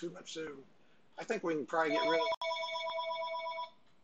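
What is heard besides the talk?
telephone ringing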